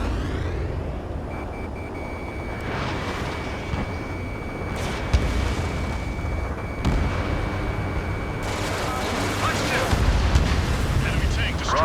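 Battle noise from Ace Combat 7 as an enemy tank is destroyed: rumbling blasts and scattered impacts under a steady tone, with radio voices talking throughout and a louder burst toward the end.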